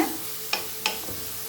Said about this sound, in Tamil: இப்போ இதை ஒரு நிமிஷம் வரைக்கும் நல்லா வதக்கிக்கலாம்